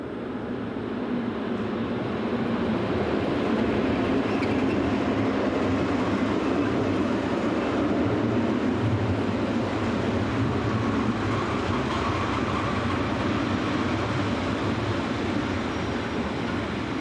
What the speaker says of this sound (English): number 624 arrives with a southbound freight